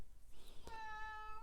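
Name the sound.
cat meowing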